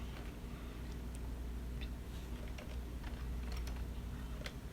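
Soft keystrokes on a computer keyboard while an email address is entered, faint scattered clicks over a steady low hum, no voice.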